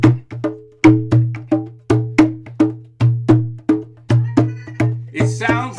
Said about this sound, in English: with my small djembe drum, I will play a rhythm.